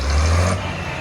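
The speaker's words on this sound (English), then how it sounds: "Volvo engine in that sounds lovely." A Volvo industrial engine running in a tractor rig at a charity tractor run, giving a brief, steady low rumble close by.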